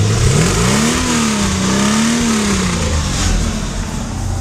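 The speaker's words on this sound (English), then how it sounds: "I don't know if you can hear the exhaust note." A Mercedes 450SL running on Megasquirt fuel injection gives a steady, loud exhaust note heard up close, with a brief rise and fall in engine pitch as it revs gently.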